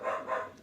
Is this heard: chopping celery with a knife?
no